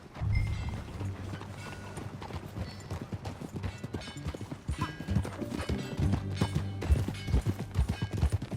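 Horse hooves clip-clop steadily in Red Dead Redemption 2, a close, rhythmic trotting patter of hoofbeats that runs continuously with no talk.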